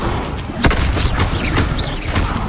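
Spells crack and boom in the Hogwarts Legacy video game, several sharp blasts and whooshing magical effects in quick succession, loud and close.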